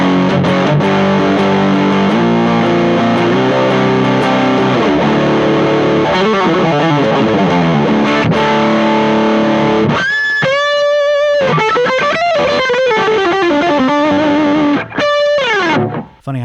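An electric guitar plays a riff through a Donner Triple Threat multi-effects pedal with the gain cranked, giving a thick, dirty fuzz tone; sustained distorted chords give way to choppier bent notes, loud and alone without talk.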